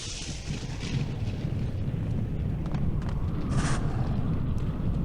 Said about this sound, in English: I almost forgot that the Tibetan war cannon does that